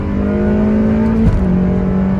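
A Ferrari California with a seven-speed dual-clutch gearbox accelerates hard through a track corner, its engine a loud, sustained roar that dips briefly at a quick gearshift before pulling strongly again.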